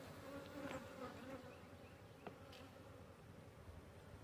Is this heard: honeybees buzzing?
yes